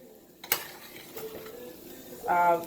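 Shirataki noodles stirred into pad thai in a pan, a sharp metal clack of a utensil on the pan followed by soft stirring, faint sizzle and a louder scraping rattle at the end.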